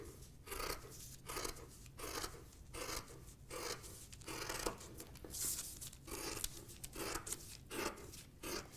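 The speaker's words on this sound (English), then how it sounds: "And you can cut this out again, either by tracing or cutting along your paper pattern." Scissors cut fabric along a paper pattern, giving a close series of crisp snips and rasping slides repeated at an uneven rhythm with no talk.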